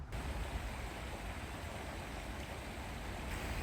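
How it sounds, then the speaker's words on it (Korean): Gentle stream water flows steadily beside a forest walking trail on Seoul Dulle-gil course 9, a soft continuous wash of water with no voices, faint and even throughout. "이 걷는 내내 이런 물소리가 잔잔하게 계속 들려서"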